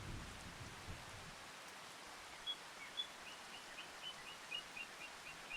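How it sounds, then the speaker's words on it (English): Steady rain falls outdoors on a hay-baling farm, a soft continuous hiss of drops with a few faint bird chirps, no one talking. "It's still raining"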